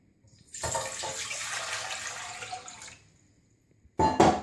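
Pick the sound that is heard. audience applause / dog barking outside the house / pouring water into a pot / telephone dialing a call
pouring water into a pot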